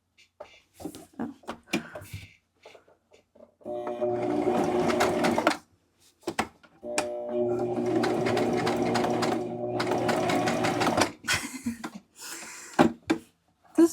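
Sewing machine running in two sustained bursts of steady stitching through fabric, a few seconds each, separated by brief pauses with small clicks and handling noises; close and fairly loud.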